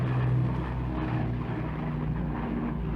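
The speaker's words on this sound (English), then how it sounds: "the final plane load arrived at the nearby airfield" A propeller plane arriving at the airfield near the Le Mans circuit, its engine a steady, fairly loud droning hum with a low tonal buzz and no voices.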